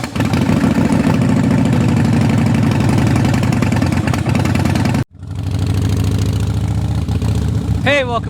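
A motorcycle engine idles loudly and close with a steady, rapid pulsing throb. It cuts out briefly and then resumes, and a short high chirp sounds near the end.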